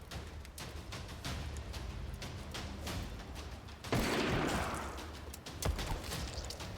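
Rifle fire in the video game Nightmare Frontier: a string of sharp shots cracking repeatedly at a fast, irregular pace, with a heavier burst and rumble midway, fairly quiet overall and without talk.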